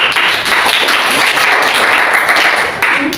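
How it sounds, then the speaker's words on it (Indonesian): Loud, dense applause from a crowd fills the whole stretch, a steady wash of many hands clapping at once. "Tepuk tangan."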